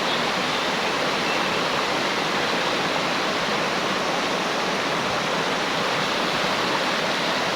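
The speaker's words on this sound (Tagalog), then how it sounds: "Dito kami sa ilog ngayon." River water flowing, a dense, constant rushing and splashing that stays steady and fairly loud throughout with no talking over it.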